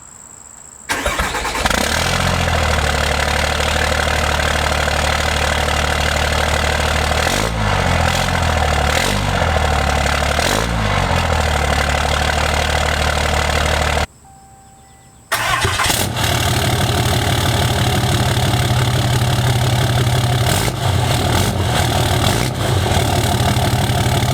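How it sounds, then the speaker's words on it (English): Two pickup trucks, a 3rd and a 4th generation, are started one after the other: each engine cranks, catches and settles into a loud, steady close idle, with a brief quiet gap between the two. "But what you really want to hear is the sound comparison of both of these. So let's go start them up real quick."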